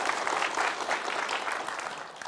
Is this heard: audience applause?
yes